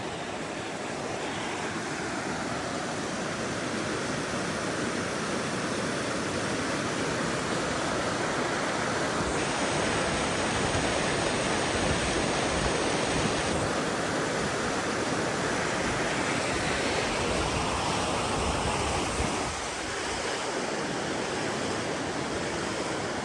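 Steady, broadband rushing of a mountain stream in the Western Tatras, Slovakia, constant and fairly close, continuing without pause; no talking.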